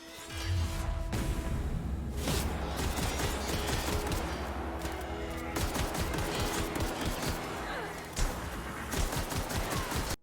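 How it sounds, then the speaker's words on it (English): Rapid bursts of weapon fire from the gloop gun in the sci-fi video game The Outer Worlds, loud and continuous over about ten seconds with dense impacts and a sharp crack near the end, no talking. "The gloop gun fires like a grenade launcher, so the shot arcs downward"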